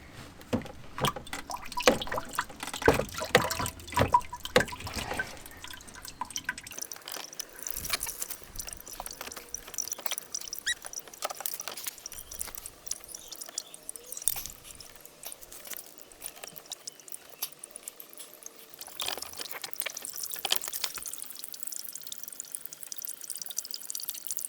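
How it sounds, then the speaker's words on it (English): Water draining from a BMW E90-series windscreen washer bottle, an irregular patter of drips and trickles splashing into a container, faint and close, continuing steadily throughout. "So now the water has basically drained out of the bottle"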